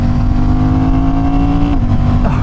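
Honda Hornet 750 motorcycle engine revving hard under acceleration while riding, a loud steady engine note rising in pitch, with a brief dip as a quick-shift gear change cuts in.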